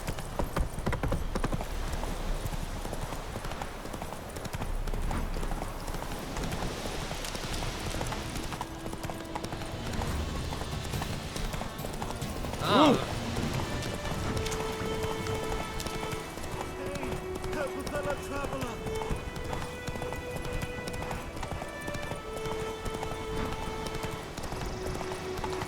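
Roach, the horse in The Witcher 3, gallops with a steady, rapid clip-clop of hooves over game music, with a brief snort or whinny midway and a voice speaking now and then.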